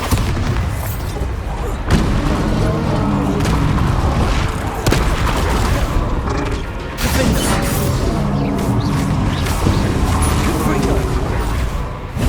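Bombarda blasting spell explosions in Hogwarts Legacy, heavy booming blasts and crashing impacts repeating every few seconds, loud and dense, under a shouted spell incantation and a game score.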